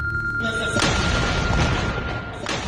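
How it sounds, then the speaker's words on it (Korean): A loud explosion boom shakes the scene during a live broadcast of a Venezuelan military anniversary ceremony, with a second burst following after sustained rumbling noise, amid crowd and broadcast background. "대통령 연설 도중 폭발음과 함께 화면이 흔들립니다."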